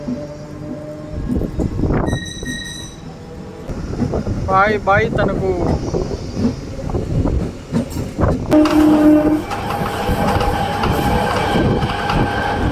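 The Simhadri Express between Visakhapatnam and Guntur rolls along the tracks past a halt station, with a steady rumble and clatter of wheels, wind buffeting and a horn-like tone, while a voice speaks briefly.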